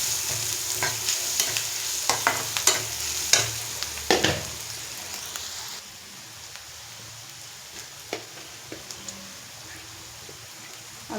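Chicken masala frying and being stirred in a pan after turmeric goes in, a steady sizzle with sharp spoon scrapes and knocks for the first half, then a quieter hiss with occasional taps.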